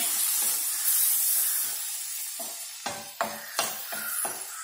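Water splashed into a hot pan of mussels for a mussel roast bursts into a loud hiss of steam and spray, fading and then flaring again with several sharp sizzling bursts, with no talking.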